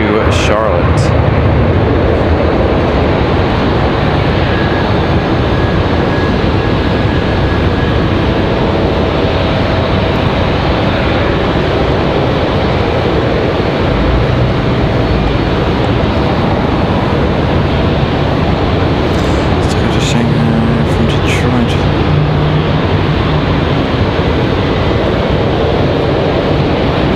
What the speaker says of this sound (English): So the American A321 departure, American Airlines 2704